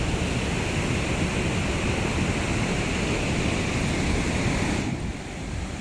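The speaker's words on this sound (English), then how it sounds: "It's the river." River rushing along the Mist Trail in Yosemite, a dense, constant roar of fast water close by, loud and steady before easing slightly near the end.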